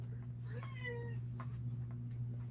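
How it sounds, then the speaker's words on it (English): A house cat meows loudly several times in short drawn-out cries close to the microphone, layered over a steady low hum. "Sorry, my cat's being loud."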